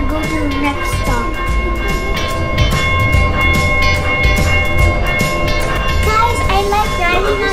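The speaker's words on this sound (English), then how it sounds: "I like riding on the tram." Tram ride through Msheireb Downtown Doha: a steady rolling rumble with rhythmic rail clicks and a faint high whine inside the car, while a child and others chatter over it.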